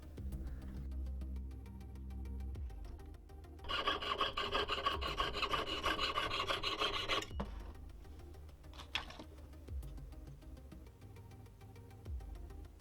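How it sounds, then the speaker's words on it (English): Square file carving a channel into a 4mm strip of silver sheet for a chain clasp hinge, heard as a close, steady rasping scrape lasting several seconds, set between quieter handling noises, with no talk. "use a square file to carve a channel where I'll intend to bend the sheet"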